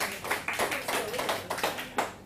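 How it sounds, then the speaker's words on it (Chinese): Audience applause at a lecture hall talk, a burst of scattered clapping from a crowd, fairly close and steady for a couple of seconds with uneven individual claps. "来给这位朋友掌声鼓励一下"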